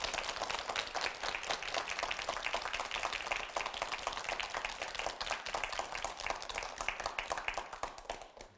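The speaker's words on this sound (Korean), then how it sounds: "박수를 한번 위로와 격려의 박수 좀 크게 쳐주시겠습니다." Studio audience at a Korean television lecture on disability gives sustained applause. Dense, even clapping runs for several seconds at fairly close range with no voices over it, then tapers off at the end.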